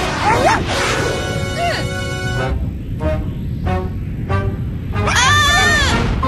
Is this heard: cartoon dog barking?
yes